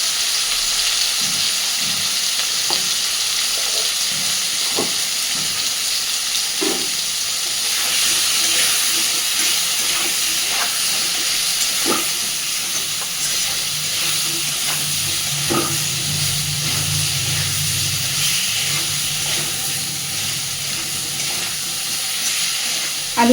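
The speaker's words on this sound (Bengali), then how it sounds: "আলুগুলো এবার একটু সুন্দর করে ভালোভাবে ভেজে নেব" Potatoes frying in hot oil for a rohu fish kalia give a steady, close sizzle and hiss, with light stirring clicks scattered through it.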